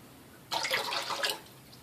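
Warm water is poured out of a ceramic shaving mug used for lathering, a brief close splashing gush lasting under a second that stops abruptly.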